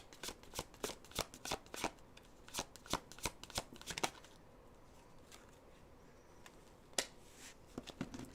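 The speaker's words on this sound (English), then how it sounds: "Did you see how long I had to shuffle the cards to get one out?" Tarot cards being shuffled by hand make sharp, rapid riffling snaps in quick bursts, close and crisp, then pause in near quiet before a few more isolated flicks, with no talk.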